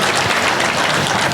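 Steady applause from an audience at a public event on green fertilizer in Kenya, a dense continuous wash of clapping that lasts the whole moment, fairly loud and without speech over it.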